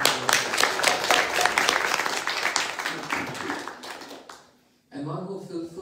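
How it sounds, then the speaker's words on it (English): Audience at a devotional retreat day in Holland claps for Shri Radha Krishna: dense, steady applause for about four seconds that fades out, followed after a short pause by a voice speaking. "So please clapping for Shri Radha Krishna"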